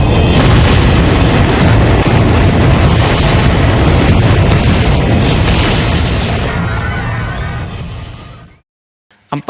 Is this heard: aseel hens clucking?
no